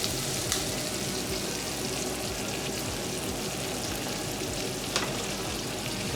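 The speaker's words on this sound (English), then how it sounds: "you're going to go ahead and saute your onions and your garlic" Onions and garlic sauté in a pan over pan drippings for steak gravy, a dense, steady sizzle with a couple of brief stirring clatters, close and loud.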